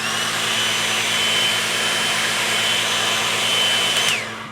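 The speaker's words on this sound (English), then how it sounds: "use a hairdryer to blow off any water spots." A hair dryer blows steadily to clear water spots from freshly rinsed jewelry, a loud continuous whooshing drone with a faint whine that holds even and then cuts off near the end.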